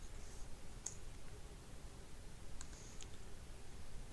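A computer mouse gives a few faint, quiet clicks, one alone and then a quick pair a moment later, against a soft background hiss.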